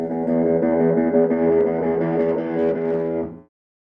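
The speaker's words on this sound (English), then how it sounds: "The more gain you add, the dirtier the tone will get." A sustained, gritty electric guitar chord through an amplifier's high-gain overdrive channel rings loudly for about three seconds, then cuts off abruptly to silence.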